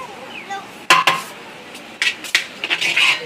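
Biryani is dished onto plates at a busy roadside shop, with sharp metallic clanks of a serving spoon against pots and plates in several quick bursts over a low background murmur.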